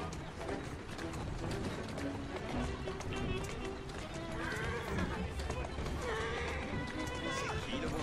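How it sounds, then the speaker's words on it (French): A horse in the video game Assassin's Creed Syndicate gallops with continuous hoofbeats, and shrill whinnies rise near the end over a busy game soundscape. "C'est qui le bon cheval?"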